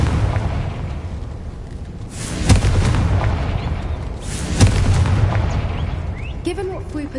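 Two booming Confringo fire-spell explosions from Hogwarts Legacy burst about two seconds apart, each a sharp crack swelling into a rumbling roar over a low ambient drone.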